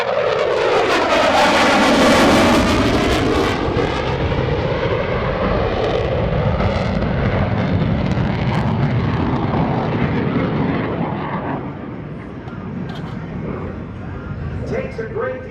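Loud, continuous roar of an F/A-18F Super Hornet jet running afterburner at an airshow, sweeping past and slowly fading, with a commentator's voice heard over it.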